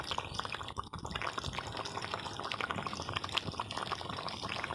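Spice paste of fried and ground onion, garlic and cumin goes into a simmering thin fish curry of koi fish and taro, giving a steady close bubbling and liquid sizzle without any talk.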